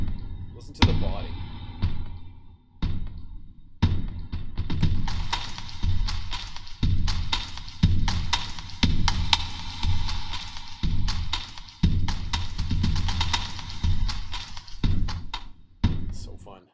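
Metal snare patch from Omnisphere Sound FX built from a metal door closing: a run of sharp, clanging metallic hits with ringing tails and a thudding low body, repeating in a steady pattern, loud and close.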